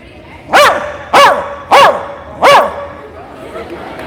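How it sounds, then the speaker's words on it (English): A dog barks four times in an evenly spaced, loud, close sequence during a live golf show, with a faint bark trailing off at the end. "that's a lot of barks"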